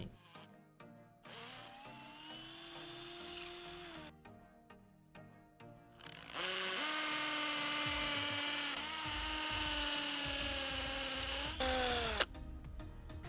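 A cordless hammer drill whines in bursts, then settles into a long, loud, rattling run as it bores into cement, stopping abruptly near the end.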